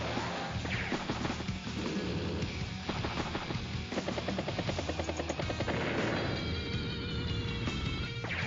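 An anti-tank unit strikes a battlecopter in Advance Wars: Days of Ruin, with a dense, loud battle sequence of droning rotor noise, crashing impacts and rapid gunfire bursts lasting throughout, layered over game music.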